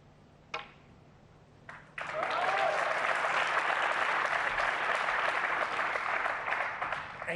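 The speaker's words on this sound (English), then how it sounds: "Roars of approval." A snooker crowd bursts into sustained, loud applause after a couple of isolated claps, the clapping holding steady and full until the end.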